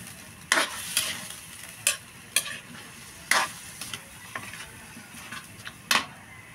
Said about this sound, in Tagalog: Halo-haloin lang natin.